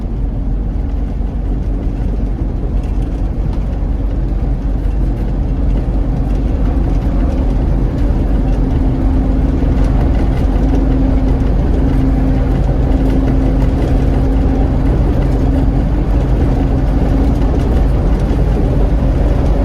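The engine of a 1979 Ford L-600 truck drones steadily from inside the cab while driving, a loud low rumble that runs without a break and shifts gently in pitch as it goes through the gears.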